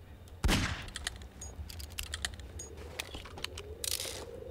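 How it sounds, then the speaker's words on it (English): Gunfire in a Garry's Mod murder-mystery round: one loud close blast followed by a run of sharp, rapid clicking and cracking shots, with a second burst near the end over a steady game background. "Shoot the green! Help! It's India. Shoot India."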